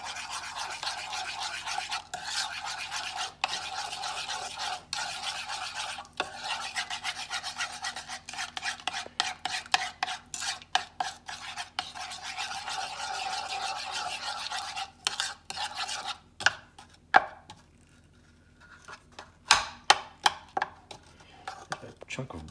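A spoon stirs meatloaf glaze with brown sugar in a bowl, making steady close scraping and rubbing strokes for most of the stretch, then a few sparser knocks and scrapes near the end, with no talking.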